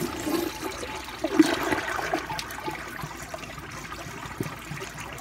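An American Standard Yorkville toilet flushes from a high-mounted tank, a close rushing gush of water that siphons out and then trickles away over a few seconds, with no talk over it.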